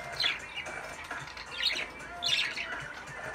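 A bird squawks and chirps in three loud bursts spaced about a second apart, close by, while a skateboarding session goes on, with a steady background hiss.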